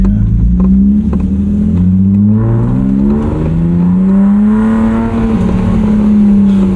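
Straight-piped 1995 BMW E36 325i with a five-speed manual accelerating through the gears, a loud, close, continuous engine drone rising in pitch with each pull and dropping at shifts, with no talking.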